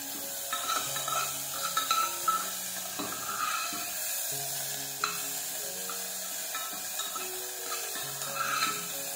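Broken wheat being fried and stirred in a pan for a homemade vegetable soup, a steady soft sizzle with scraping stir strokes and occasional utensil clinks running throughout, fairly close and moderate in level, no voices.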